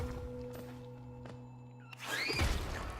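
A breakable wall is struck in the video game Hollow Knight, giving a sudden crumbling, shattering burst with rattling debris that follows a steady low hum and a few faint taps.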